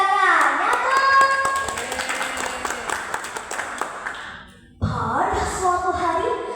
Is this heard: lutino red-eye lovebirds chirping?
no